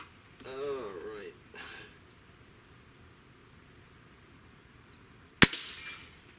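A single sharp shot from a Barra 1200 break-barrel air rifle cracks out near the end, loud and close, after a stretch of quiet with brief faint sounds early on.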